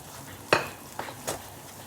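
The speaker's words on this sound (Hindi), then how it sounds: "मुसलसल अब हमने इसमें चमचा चलाते रहना है कि ये हमारी ग्रेवी अच्छे से पक जाए" A spoon scrapes through Mughlai chicken gravy with cashews simmering in a pan over low heat, three close, sharp clinks against the metal over a faint, quiet sizzle.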